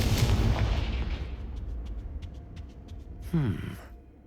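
A Confringo blasting spell from Hogwarts Legacy bursts loudly at the start, rumbling and fading over several seconds, followed later by a second sharp magical whoosh and crackle.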